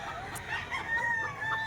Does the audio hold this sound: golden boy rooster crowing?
yes